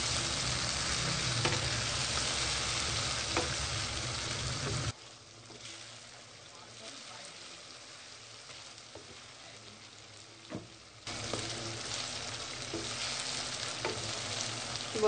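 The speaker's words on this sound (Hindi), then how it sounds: "टमाटर का पेस्ट बहुत अच्छे तरीके से भुन गया।" Tomato paste for achar gosht fries loudly in a pan, a dense steady sizzle that drops quieter for several seconds in the middle before returning at full strength, with no voices.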